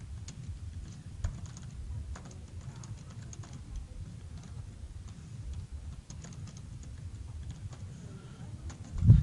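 Someone types a comment on a computer keyboard for a blog post, a steady run of soft, quick key clicks close by over a low room hum, with no talk.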